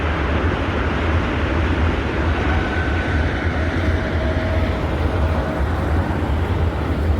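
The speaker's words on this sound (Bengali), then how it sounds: "বন্দে ভারত যাচ্ছে আর একটা লোকাল যাচ্ছে" Two trains, a Vande Bharat express and a local, pass on a bridge, making a steady, loud, continuous rumble and clatter that runs through the whole stretch with no talk over it.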